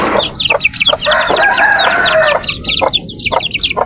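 Several one-month-old chicks cluck and cheep close by in quick, overlapping bursts, with a brief louder trilling call in the middle.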